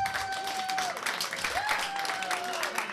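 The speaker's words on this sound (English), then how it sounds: "Clap, round of applause." A live audience applauding at a comedy show, with brisk, dense clapping throughout and a whistle gliding over it.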